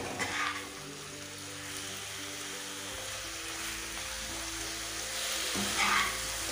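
A squash curry fries in a pan over a raised gas flame and is stirred, giving a continuous soft sizzle with occasional scraping. Background music plays throughout.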